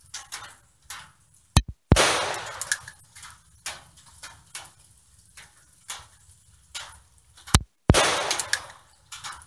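Nagant M1895 revolver fired at an outdoor range at 15 yards, with two sharp, loud gunshots several seconds apart, each followed by a short echo, and quieter ticks and handling noises in between.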